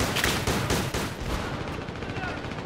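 Battlefield 3 gunfire: continuous rattling of distant shots and bursts, moderately loud at first and thinning out, with someone talking over it.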